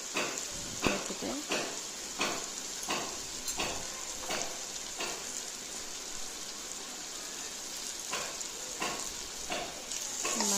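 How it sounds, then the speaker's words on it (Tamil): Chopped parotta stir-fried with masala in a pan for chilli parotta, a steady sizzle and hiss broken by repeated sharp scraping strokes of a spatula against the metal, close and continuous with no talk. "மசாலோட சேர்த்து கட் பண்ண பரோட்டா வதக்கணும்."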